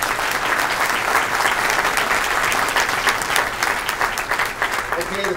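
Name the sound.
applause for candidates at a forum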